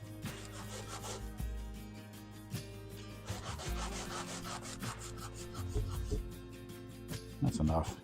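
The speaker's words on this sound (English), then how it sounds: "I'm sanding those sections just to make sure I get it flat." 220 grit sandpaper rubs in short, repeated strokes across a small HO scale model railroad steam hammer part, close and scratchy, with a voice talking over the sanding.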